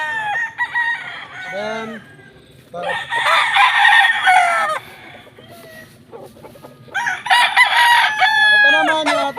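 A Madigan Gray gamefowl rooster at a game farm crows in three loud, close bursts separated by short pauses, each call a strained, wavering cock-a-doodle-doo, with a soft word spoken briefly between them.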